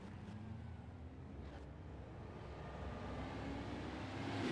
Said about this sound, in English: As you hear, the drivers revving the motor.